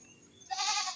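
A single drawn-out bleat from a farm goat rises out of low background noise, moderately near and sustained to the end.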